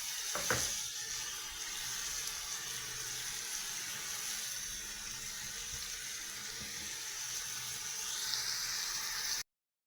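A pot of meat for kabsa bubbles and hisses steadily at a rolling boil, with a faint clink at the start and no voices.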